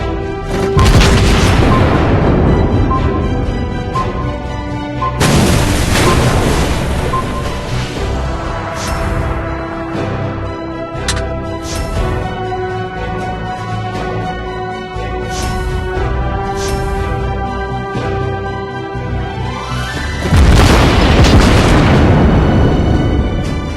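Ship artillery salvos and explosions in the naval video game World of Warships Blitz, several loud booming blasts spaced seconds apart, each with a long rumbling decay, over a constant music and engine bed.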